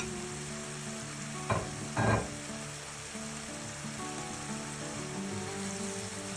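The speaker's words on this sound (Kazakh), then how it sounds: "барлығын жақсылап қуыратын боламыз." Minced meat sizzling in a pan with bell pepper and garlic, a steady soft crackle close by, with two brief louder clatters of stirring near the start and a faint background hum.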